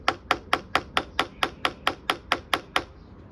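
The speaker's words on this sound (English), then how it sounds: "just give it a knock with this tiny hammer" Eleven crisp metallic taps from a tiny hammer striking a tungsten centre punch during a Suzuki Bandit 1200 motorcycle restoration, evenly spaced at a steady rhythm, close and clear with no talking.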